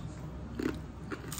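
Someone bites into crunchy fried Indonesian gorengan, giving two short, crisp crunches close to the microphone against a quiet background, with no speech.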